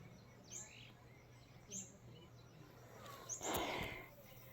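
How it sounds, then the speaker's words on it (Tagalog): Faint bird chirps and short calls outdoors from a tamarind tree, a few scattered tweets over quiet background hiss and a low hum. "nakikinig sa mga huni ng ibon"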